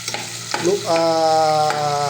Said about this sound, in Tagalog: Ugay-ugayin mo yung sibuyas